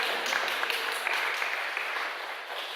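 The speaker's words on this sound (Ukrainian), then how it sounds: "І прошу вас, оплески для бабуся Леся" Sustained audience applause for grandmother Lesya at a Ukrainian solo singing competition in Rijeka, a dense, steady wash of many hands clapping with no voices over it.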